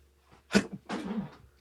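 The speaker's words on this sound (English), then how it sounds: "No, I sneezed." A single close sneeze, a sharp burst followed by a breathy, voiced tail, in an otherwise quiet room with a faint low hum.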